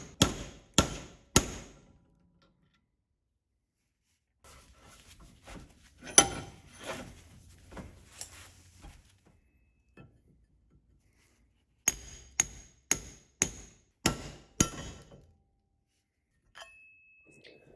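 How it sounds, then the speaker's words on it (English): Sharp metal hammer blows knocking loose the front suspension ball joints of an Alfa Romeo GTV clamped in a vise, three quick strikes then a later burst of five ringing clinks, close and loud with quiet gaps between. "While it was in the vise, I figured I should pop the ball joints."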